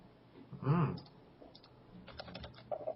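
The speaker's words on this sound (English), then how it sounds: "You do realize I'm typing that in now to Steam." Computer keyboard typing, entering a game title into Steam, light clicky keystrokes in scattered bursts under quiet room tone, with a louder thump early on.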